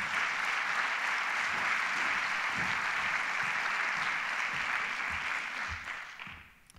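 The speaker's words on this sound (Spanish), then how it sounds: "Pido un aplauso para él, Joaquín" Audience applause at a corporate innovation day event on the digital economy, a dense steady roar of clapping that holds for several seconds before tapering off at the end.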